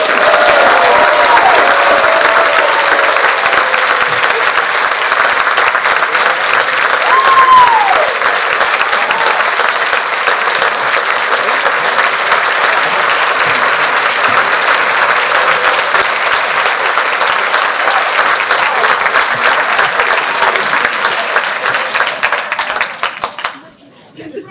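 Sustained, loud audience applause fills a gala hall for over twenty seconds, dense steady clapping that fades out sharply at the end, with a few voices faintly mixed in.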